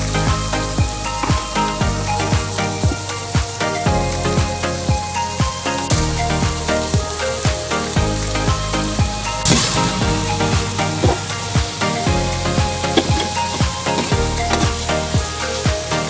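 Bitter gourd (ampalaya) with tomato sizzles loudly and steadily in a pan, a dense continuous crackle with stirring scrapes and no talk.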